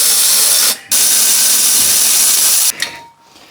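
A power tool spins loose a pair of 17mm bolts on a Toyota Aurion brake assembly, with two bursts of loud whirring, a brief gap between them and a short ratcheting tail at the end.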